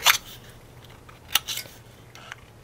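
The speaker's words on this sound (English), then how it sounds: "The actual tea light metal is very easy to cut. It's thin, so you just use your scissors" A few sharp metallic snips from scissors cutting thin tea light metal, spaced irregularly, the first and a pair in the middle loudest, with quiet pauses between.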